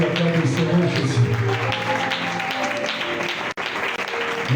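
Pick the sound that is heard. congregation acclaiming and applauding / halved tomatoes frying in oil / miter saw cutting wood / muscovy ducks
congregation acclaiming and applauding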